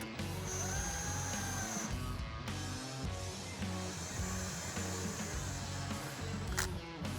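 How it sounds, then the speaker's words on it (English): A power tool whirs and buzzes in close, sustained bursts with brief pauses as it drives the supercharger bolts on a Whipple W175FF 2.9L kit fitted to a 6.2L 2014-2018 Silverado. "So I'm gonna use an impact."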